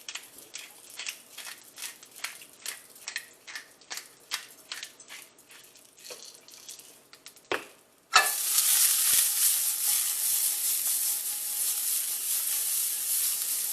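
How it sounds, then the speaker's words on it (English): Vegetables are worked around a pan in garlic-flavored oil, first with a run of quick scraping, clattering stirs, then a sudden loud, steady sizzle that continues to the end, close and without speech. "we're only sauteing these for a couple minutes just to get them warm through"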